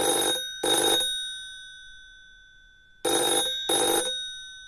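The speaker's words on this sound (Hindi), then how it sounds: "फ़ोन की घंटी बजी" An old-style telephone bell rings in two bursts, each a pair of loud metallic rings, separated by a pause of quiet.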